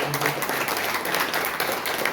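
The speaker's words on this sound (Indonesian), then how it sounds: "Yang setuju tepuk tangan. Tepuk tangannya lebih baik." Church congregation at a Sunday worship service applauding together, a steady dense wash of hand clapping that holds evenly throughout without a break.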